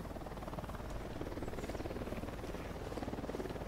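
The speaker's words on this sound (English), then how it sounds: "I'm not even going to try and shoot at the helicopter." An Apache attack helicopter in the video game Ghost Recon Wildlands flies close by, its steady rhythmic rotor thump and engine drone loud and continuous throughout.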